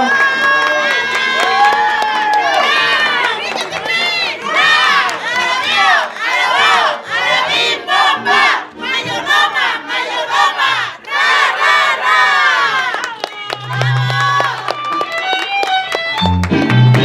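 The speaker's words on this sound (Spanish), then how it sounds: "Muy bien, un aplauso." Crowd at a mayordomía celebration bursts into loud, sustained cheering, shouting and clapping, with children's voices mixed in; the roar stays dense for most of the clip before fading into scattered voices and claps.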